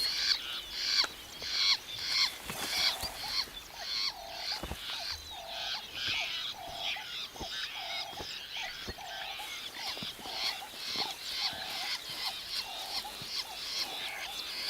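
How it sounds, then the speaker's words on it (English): Fiscal shrikes squawking in the wild, harsh repeated calls at a quick steady rhythm over a busy background of other bird and insect-like chatter, moderately distant and faint. "That's why so many birds are squawking around here."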